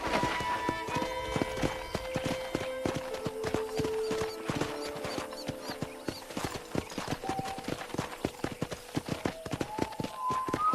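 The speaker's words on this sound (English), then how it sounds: "let's see if you can still ride a horse" Steady clip-clop of horse hooves walking at a regular pace in the video game Red Dead Redemption, close and continuous, with a faint background tune and an occasional whinny.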